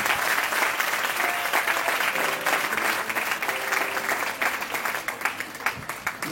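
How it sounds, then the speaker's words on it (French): A church congregation at a seminar applauds steadily, dense broadband clapping filling the room and holding loud throughout before thinning slightly toward the end. "Est-ce qu'on peut acclamer le Seigneur pour sa"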